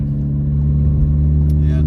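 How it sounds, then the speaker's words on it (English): A VW MK7 GTI with an XClutch Stage 2 clutch, engine rumbling loud and close in fourth gear while approaching a stoplight, low steady drone with a brief rise, someone talking over it. "I'll put it into 4th gear and I'll do some heel toe coming up to this stoplight up here"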